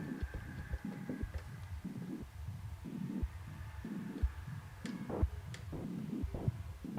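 Modular synth sequencer on a Westlicht Performer running a five-step pattern, alternating zero and full values, giving a steady pulsing, throbbing low-frequency rhythm of repeating thumps with faint higher blips, looping continuously at moderate level.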